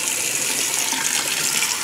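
A Kohler Pro-Inspired kitchen sink faucet runs a strong, steady stream of water into the sink. The hiss stays close, loud and even throughout, with no talk.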